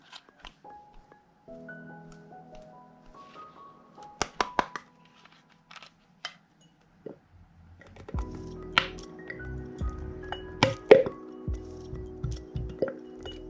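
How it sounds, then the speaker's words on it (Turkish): A closed homemade calming glitter bottle being shaken, first with soft rattles and sloshing, then vigorous repeated shaking with sharp clinks and knocks, close and fairly quiet. "Şimdi kapağını kapatıp iyice çalkalayayım ben bunu."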